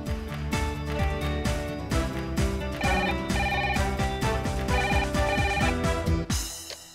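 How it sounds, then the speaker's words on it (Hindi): A telephone rings after a number is redialed, a steady repeating ring pattern heard loud and alone for several seconds before cutting off. "फिर से डायल करता हूँ।"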